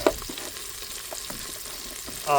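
Onions browning in an Instant Pot for khichdi, a soft, steady sizzle with light scraping stirs and a louder stir at the end, close by with no talk.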